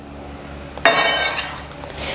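Hot sushi rice is stirred and folded with a vinegar-sugar mixture: a sudden burst of close, wet scraping and light clinking of the utensil against the bowl, continuing steadily after a quiet start.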